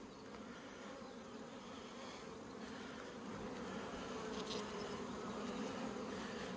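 Honeybees swarm and drone in a crowded hive during a May colony split, a steady dense buzz that swells slightly louder toward the end, close and continuous with no talk.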